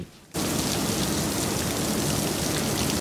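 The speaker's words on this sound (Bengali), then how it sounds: "সকাল ৮টার পর বাতাসের সঙ্গে শুরু ভারী বৃষ্টি।" Heavy wind-driven rain pours down over Dhaka during a cyclone, a dense steady roar of drops on surfaces that starts suddenly and holds loud and even for nearly three seconds.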